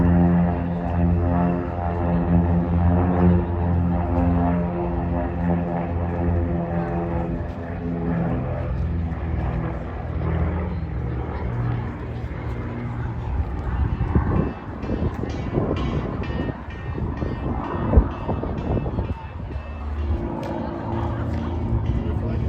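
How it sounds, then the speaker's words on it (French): Propeller airplanes fly past during an air show at Tallard aerodrome, a steady droning engine hum swelling and fading as aircraft pass, with crowd chatter and talk underneath. "Il y a un meeting aérien à Talar, à l'aérodrome."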